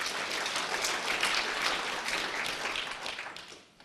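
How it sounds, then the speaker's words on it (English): Audience applause at a humanist conference: a dense, steady crowd clapping that holds strong for a few seconds and then fades away toward the end. "It's the only applause of the day."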